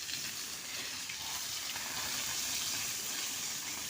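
Tap water runs steadily into a container, a continuous bright gushing hiss heard close and unbroken for a few seconds, with no talking.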